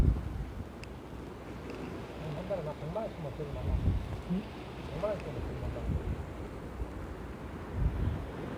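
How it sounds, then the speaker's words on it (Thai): Strong wind blows at a lakeside or river fishing spot in a Korean mountain valley, producing steady low buffeting rumble and microphone gusts throughout, with a few faint tonal sounds underneath. "เนี่ยค่ะลมแรงมากเลยค่ะ"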